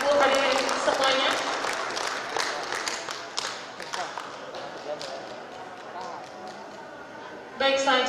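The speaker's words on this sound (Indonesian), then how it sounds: "Boleh tepuk tangan Bapak Ibu hadirin semuanya." Audience applause at a formal meeting, a dense patter of clapping hands filling the room, loud and close, with a voice speaking over it near the start and a fresh burst of clapping at the end.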